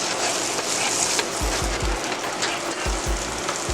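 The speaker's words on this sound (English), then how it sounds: "So the andouille's been cooking, browning off nicely." Andouille sausage browning in a hot pan with a loud, steady sizzle, broken by several low thumps and scrapes as the pieces are stirred and shifted, and no one speaking.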